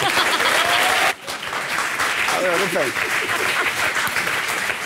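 A French television studio audience on a talk show applauds loudly and steadily throughout, with a brief dip near the start and some voices mixed into the dense clapping.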